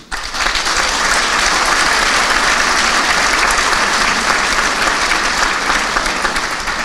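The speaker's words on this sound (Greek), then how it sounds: "Και γι' αυτό θεωρώ ότι αξίζει το χειροκρότημά μας." Sustained audience applause at a Greek civic ceremony during a Christian religious art festival, dense and steady clapping from a large crowd that holds loud throughout with no speech over it.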